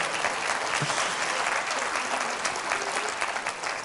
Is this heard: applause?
yes